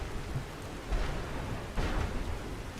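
Steady stormy rain in the fantasy game Skyrim. A constant hiss of rainfall is broken by two low rumbling swells of thunder, moderately loud, with no one talking.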